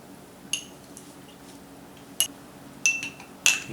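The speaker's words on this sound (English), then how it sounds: "You stir this all in together." A spoon clinks against a glass while stirring a Shirley Temple with cherries in it, producing a few sparse, bright clinks spread out over a few seconds in a quiet setting.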